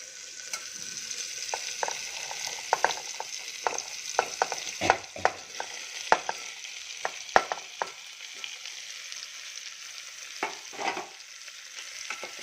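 Peeled, seeded Mangalore cucumber sizzles and fries in a hot tempering while it is stirred, with scraping spoon strokes and crackling bursts across a steady frying hiss, close up and with no voices.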